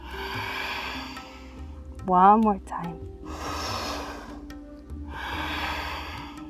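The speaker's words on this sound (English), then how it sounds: "Breathing in deeply and breathing out fully." During a yoga flow, three long, airy breaths are drawn in and pushed out, deep and close, with a brief spoken phrase between the first two.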